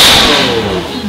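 A Lamborghini SV fitted with a Gintani exhaust lets out one loud, brief rev that sweeps downward as it fades, heard close up.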